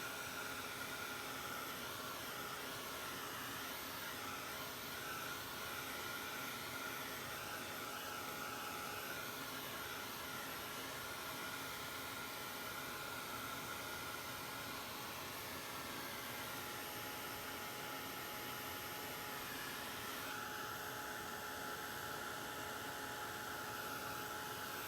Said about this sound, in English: Here we go with the heat gun.